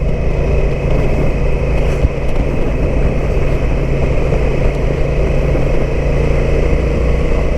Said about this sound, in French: Mais ce grognement du moteur est top.